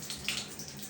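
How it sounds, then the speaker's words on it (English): Weak trickle of water from a Moen shower valve in a home bathroom, a faint, thin, steady hiss with small splashy rises, heard alone. "when I turn on the valve, there is hardly any water coming out"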